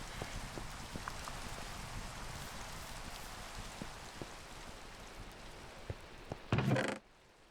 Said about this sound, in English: So it's clearly raining right now.